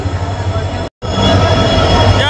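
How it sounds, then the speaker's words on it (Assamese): A train arriving at a station rumbles loudly close by, a heavy continuous roar with wheel noise and high squeal, briefly cut for a moment before resuming. "ফাইনেলি আমাৰ ট্ৰেইন আহি গ'ল"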